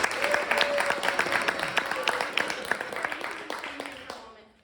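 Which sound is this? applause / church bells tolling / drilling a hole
applause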